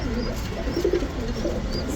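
Bagha pigeons coo softly and repeatedly nearby in a loft, low throaty calls over a steady background hum.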